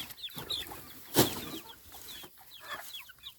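Several chickens cluck and squawk nearby, one sharp loud squawk standing out among quicker, softer clucks.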